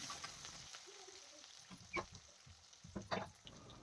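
Thinly sliced medium onions and slit green chillies sizzling in a pan for a tomato and ivy gourd fry, a faint, steady frying hiss broken by a few soft stirring scrapes.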